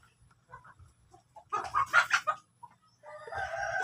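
Breeder chickens cluck in short bursts on a farm while a rooster crows loudly near the middle, with more hen calls rising toward the end.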